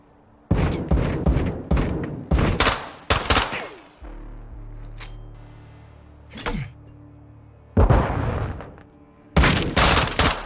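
Call of Duty Modern Warfare 2 gunfire comes in several loud, close bursts of rapid automatic shots separated by brief pauses and low rumbling thuds.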